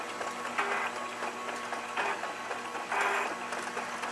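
A Newman wrap-around labeler applying labels to containers makes a steady mechanical whir with periodic louder whirring bursts, roughly one per second, as each label feeds.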